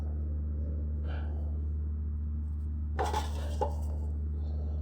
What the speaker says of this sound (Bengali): ভালোভাবে নেড়ে ছেড়ে এখন ঢাকনা দিয়ে ঢেকে দিব।